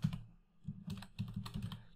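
Keystrokes clatter on a computer keyboard while a formula name is entered in a spreadsheet, in quick irregular bursts of close, crisp clicks with a brief pause near the start.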